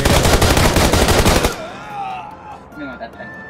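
Rapid automatic gunfire in PUBG Lite, a loud, fast stream of close shots for about a second and a half that stops abruptly, followed by quieter in-game sounds.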